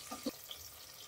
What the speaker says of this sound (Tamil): நல்லா வெங்காயம் கொஞ்சம் நல்லா வதங்கட்டோங்க.